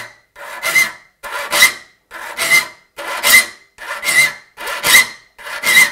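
A hand file rasping across the teeth of a handsaw to sharpen it, seven even strokes in a steady rhythm, close and clear with short pauses between each pass.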